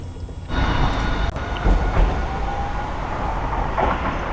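A train bound for Hiroshima Station rumbles along in Hiroshima, Japan, heard from inside the carriage. It gives a loud, continuous rolling roar with occasional clunks and a brief squeal, and no talk over it.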